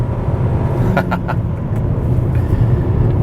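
A 2019 Mitsubishi Outlander Sport with a 2.4-liter four-cylinder and CVT accelerating hard, a loud steady drone and road rumble from inside the cabin, with a few brief clicks partway through.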